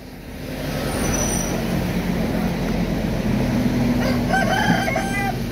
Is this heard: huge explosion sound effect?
no